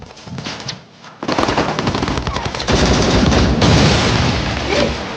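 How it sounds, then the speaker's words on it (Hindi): Heavy film gunfire from the Indian action movie Dhurandhar, dense sustained automatic bursts with booming shots, loud and continuous, with a brief lull near the start before the firing intensifies. "यहाँ पे शदीद फायरिंग हो रही है।"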